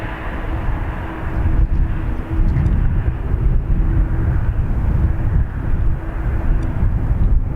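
Aer Lingus airliner departing Dublin Airport, a steady loud jet engine roar with heavy low rumble and a sustained tone, close and continuous, with some wind buffeting on the microphone.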